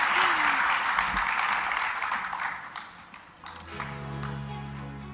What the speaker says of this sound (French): Encore des applaudissements pour ce panel.